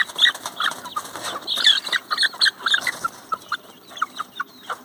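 Free-ranging country hens clucking among their chicks in a grove, a busy, close chorus of short clucks and chirps that grows sparser toward the end.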